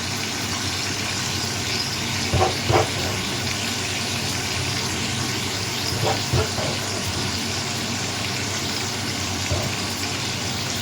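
Sliced pork frying in a pan with star anise, garlic and ginger, a steady broad sizzle running throughout with a few faint clicks and knocks now and then.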